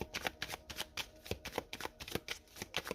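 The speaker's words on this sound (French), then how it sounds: "On va aller prendre les cartes du Lenormand." Lenormand cards are shuffled close up in quick, irregular bursts of papery riffling and slapping. The cards are handled continuously without any speech.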